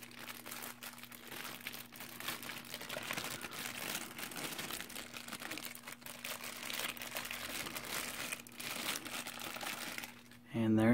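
Stokyo Kutter portable fader being unboxed, with steady crinkling and rustling of packaging throughout and a louder handling thump at the end.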